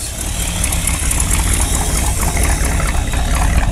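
A Dodge Power Wagon truck engine idles just after starting, a loud, close, steady rumble with a rough, uneven low-end pulse throughout.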